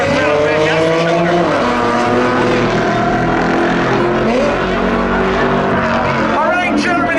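Race cars, including a Ford, tear around Hudson Speedway in a ten-lap spectator race on Memorial Day 2025, engines roaring loud and continuous with pitch rising and falling as they rev and pass.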